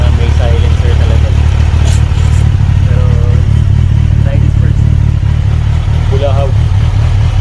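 Kawasaki Versys 1000 SE motorcycle fitted with an Akrapovic slip-on exhaust and silencer, its engine droning steadily and loud throughout, with speech over it.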